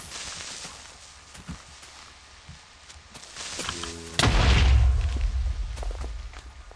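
A Minecraft creeper blows up with a sudden deep boom about two-thirds of the way in, after a stretch of quiet game ambience and soft footstep-like taps. The rumbling blast stays loud to the end.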